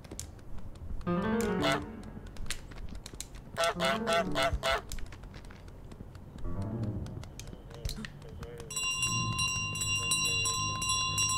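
Bell ringing in Untitled Goose Game amid honking goose calls and other game noises, with a sustained tonal ring standing out clearly near the end.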